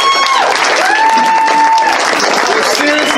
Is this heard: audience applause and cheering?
yes